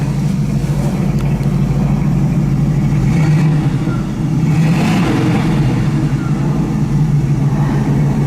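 A 1969 Chevrolet Camaro with its original 307 V8 and four-barrel carburetor revs hard, a loud continuous deep engine roar that dips briefly before surging again.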